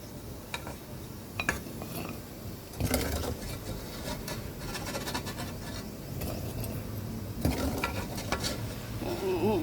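Hot pork cracklings are scooped out of frying oil, producing a soft, steady sizzle broken by scattered metal scoop clinks and scrapes against the pan, nearby and moderately loud.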